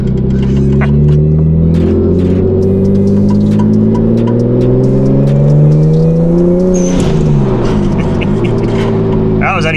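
A Nissan Skyline R34 with a titanium exhaust rumbles deeply and revs up, the engine pitch rising and then dropping as it settles, loud and close inside the car, with brief talking.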